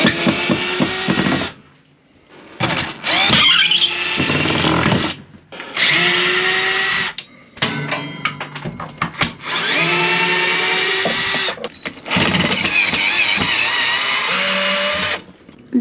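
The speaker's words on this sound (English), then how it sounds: "we're gonna jump in here and take out a few more screws and see what we can get done today" A power drill backs out screws during a camper renovation, running in repeated loud bursts of whirring and grinding with short pauses and clatter between them, close to the microphone and with no talking.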